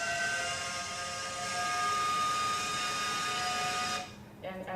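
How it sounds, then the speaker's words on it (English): Georgia Tech steam whistle sounding as a long, sustained tonal blast, moderately loud and steady, then cutting off abruptly near the end as quieter noise takes over. "the first one we're going to put in is the Georgia Tech whistle."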